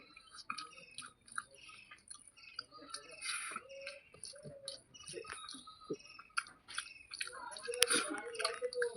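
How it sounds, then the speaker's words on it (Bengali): Close wet chewing and biting on fish roe and earth-grown potatoes, with irregular soft smacks and squishes and a voice speaking quietly at times. "বন্ধুরা মাছের ডিম খাচ্ছি, আলু খাচ্ছি, মেটে আলু, মাটি নিচে আলু"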